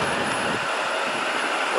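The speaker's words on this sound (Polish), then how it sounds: "Następny tramwaj jedzie" A tram passes at a depot in Gdańsk-Wrzeszcz, a steady broadband rushing roar with a thin high whine, loud and continuous.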